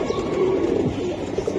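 Silver giribaj pigeons cooing close by in a continuous, throaty, warbling drone, fairly loud and unbroken, with no talking.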